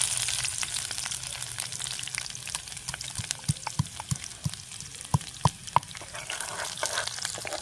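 Onion dropped into hot oil already holding bay leaf, cloves, black pepper and a piece of cinnamon for masala paneer, frying with a close crackling sizzle and scattered stirring taps throughout.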